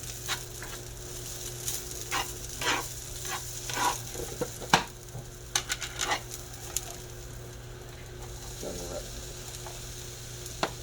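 Food, with onions added, fries in a lightweight non-cast-iron skillet for chicken and beef enchiladas, giving a steady close sizzle broken by scattered stirring clinks and scrapes.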